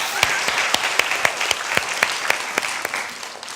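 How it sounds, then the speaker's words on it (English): Audience at a schools concert given by the Melbourne Symphony Orchestra claps steadily, a dense wash of applause with a few sharper nearby claps standing out, no talking over it. "Let's give them a big round of applause."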